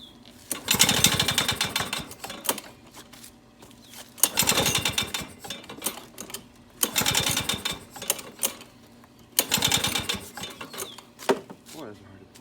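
An old Lawn-Boy lawn mower being pull-started on choke: four separate bursts of rattling, clattering recoil pulls spaced a few seconds apart, close and fairly loud, with no running engine catching in between.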